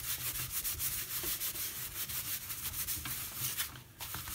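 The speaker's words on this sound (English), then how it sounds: "so you gently buff it" Tissue buffing the surface of a wax landscape painting: soft, close dry rubbing strokes repeating in an uneven rhythm, gentle and continuous.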